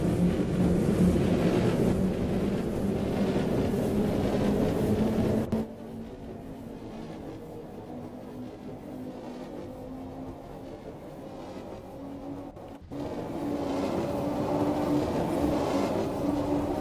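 A Bakerloo line 1938 Stock London Underground train running in Train Sim World 2, a continuous rumbling drone with a rising motor whine, dropping suddenly quieter for several seconds as if entering a tunnel, then swelling back to full level.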